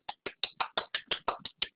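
A small round of applause for a student, heard as about ten sharp, evenly spaced claps close to the microphone, too regular to be a crowd.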